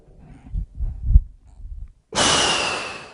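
During a yogic breathing exercise, soft breaths and sniffs come in short pulses, then a long, strong breath of air rushes in near the ear. No talk is heard.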